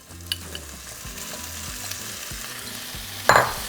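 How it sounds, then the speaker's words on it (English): Diced ham fries in melted butter with a little oil for Mexican white spaghetti, a low, steady sizzle with a few faint taps, then a sharper, brighter burst of crackling near the end. "once the butter melts, we're going to add our ham"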